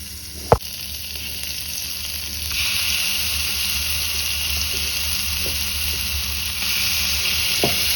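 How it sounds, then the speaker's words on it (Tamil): Ingredients sautéing in oil in a pan, with salt added, give a steady close sizzle throughout, marked by a sharp utensil clank near the start and a few lighter taps later. "போட்டு நல்லா வதக்கிக்கணும்"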